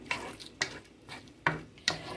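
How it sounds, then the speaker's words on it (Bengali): Greens fry in a frying pan with onion, garlic and dried chili under a soft sizzle, broken by four sharp spatula scrapes and stirs spaced roughly half a second apart, close by with no voices. "শাকটাকে একটু ভাজি করে নিব।"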